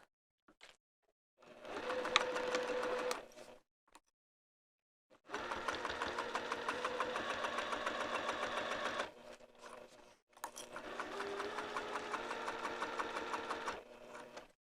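A sewing machine stitching a vinyl zipper wrist pouch, rapid even needle clatter in three bursts separated by short pauses, close and clear.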